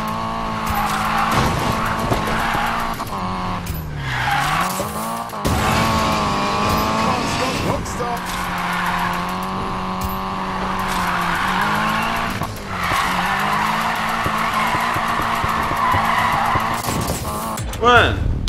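A Nissan Silvia drifts in Need for Speed Payback, its engine whining and revving hard through gear changes while tires squeal in long sustained bursts, loud and continuous, with someone talking over the action.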